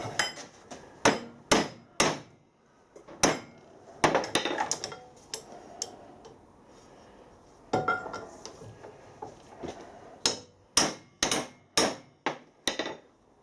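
A brass oil pipe is hammered straight on a hard surface after silver soldering, giving a series of sharp metallic blows in irregular bursts with short pauses, some struck in quick runs of two or three.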